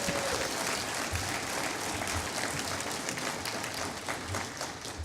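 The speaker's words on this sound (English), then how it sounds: "That wasn't even the applause line." An audience at a college commencement bursts into steady, broad applause that fills the hall from a distance and fades slightly toward the end, with no talking over it.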